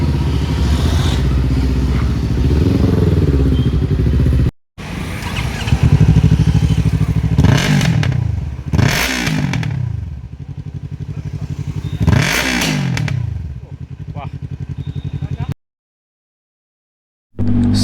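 A Yamaha R3 motorcycle fitted with a loud Devil Evolution full-system exhaust and a BMC air filter idles and then revs hard several times close by, with sharp rising blips, crackles on the overrun and a brief cut to silence.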